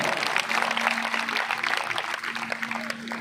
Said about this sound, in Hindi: एक बार रुद्राज जी के लिए जोरदार ताली।